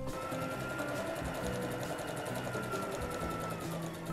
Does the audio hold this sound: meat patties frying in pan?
no